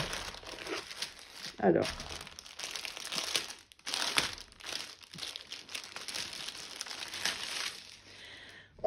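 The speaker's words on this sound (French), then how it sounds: "on va tout de suite ouvrir cette toile" Crinkly plastic packaging around drums being opened, with continuous rustling and crackling in bursts up close while a person speaks briefly.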